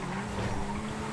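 Car braking into a hairpin in a GTA FiveM street race of compact cars, tyres squealing in a steady sustained skid under engine drone, brief and fairly close.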